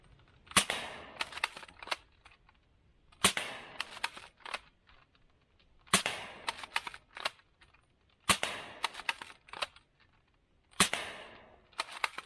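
A T238 RGB Scar tracer toy dart blaster fires yellow glow tip darts in five evenly spaced groups, each a sharp snapping shot with a short rattle of mechanism, fairly close and loud with quiet gaps between.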